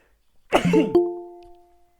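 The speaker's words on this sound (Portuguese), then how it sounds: "Esse espirro não foi Covid, tá? É alergia aqui." A single sharp allergy sneeze bursts out close to the microphone, with a brief voiced tail trailing off afterward in an otherwise quiet room.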